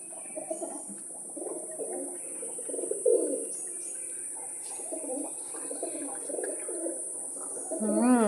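Pigeons coo softly in low, throaty bursts, a few repeated calls with faint chirps and room noise, moderately close.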